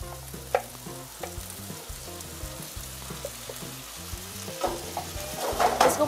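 Rice with a little soy sauce is stirred and fried in a pan, a steady close sizzle with scraping stirs and occasional louder clatters of the utensil, no voices present.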